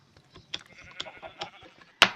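Several short sheep bleats from Minecraft sound in sequence, fairly close and clear, ending in a louder, sharper burst at the end.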